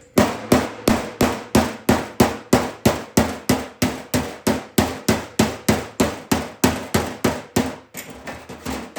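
Steady, rapid hammer blows ring out on a metal body panel backed by a body spoon, about three per second, loud and close, continuing evenly before stopping near the end.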